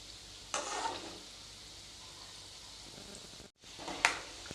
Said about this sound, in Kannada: ಶೇಂಗಾ ಪೂರ್ತಿ ಕ್ರಿಸ್ಪಿ ಆಗಬೇಕು, ಅಲ್ಲಿವರೆಗೂ ಇದನ್ನು ನಾವು ಫ್ರೈ ಮಾಡ್ಕೋಬೇಕು.